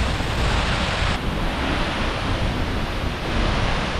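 A 60 m waterfall in winter Iceland roars loud and unbroken, a dense close rush of falling water and spray mixed with gusting wind buffeting the microphone, with nobody speaking.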